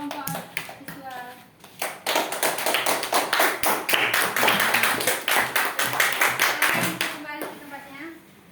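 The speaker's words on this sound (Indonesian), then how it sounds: "Tepuk tangan untuk kelompok visual." A primary school class claps for a student group, sharp close hand claps building into a lively burst of applause with children's voices mixed in, then fading to a few last claps.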